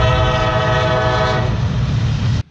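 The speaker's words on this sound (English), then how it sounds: "here comes the train" Train passing close by a Civil War era farm, a loud sustained horn blast over heavy rail rumble that cuts off abruptly near the end.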